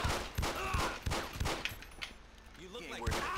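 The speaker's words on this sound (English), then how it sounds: "Shots fired! Shots fired!" Gunfire in a GTA game with a police mod: a rapid burst of several close, loud shots, then scattered single shots, with shouting voices around them.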